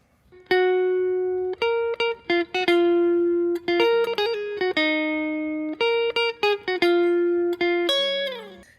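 Electric guitar picks out a riff as clean single notes with slides, played in short phrases separated by brief gaps, close and clear with no voices.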